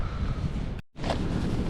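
Storm wind buffets a winter campsite in Edale in the Peak District, a steady loud broadband roar with gusts that cuts out briefly near the middle before surging back.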